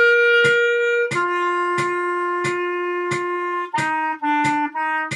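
A clarinet plays a short passage reaching up to the high C, with clear sustained notes separated by distinct attacks, loud and close, building to quicker note changes near the end.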